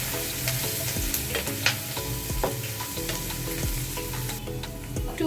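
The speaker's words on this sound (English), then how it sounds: "let this fry well" Chopped onion fries in a pan with a steady bright sizzle, and a spoon stirs and scrapes against the metal in periodic knocks, close and fairly loud with no talking.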